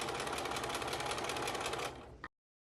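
Sewing machine stitching elasticized shirring fabric in a rapid, steady mechanical whir for about two seconds, then slowing and stopping with a final click.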